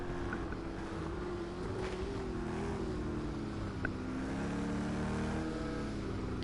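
A steady, droning GTE racing car engine hum in a sim racing game at Circuit de la Sarthe, Le Mans, with a wavering pitch, loud and continuous throughout as the car sustains speed.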